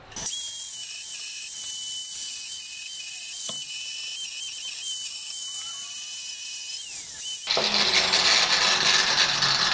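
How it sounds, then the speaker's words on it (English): An angle grinder fitted with an aggressive grinding disc runs at a low variable speed. It makes a steady, high-pitched whine close up, with a few faint ticks, then a harsher, louder grinding rush near the end. "You can hear how low I have that grinder set because that's a very aggressive wheel."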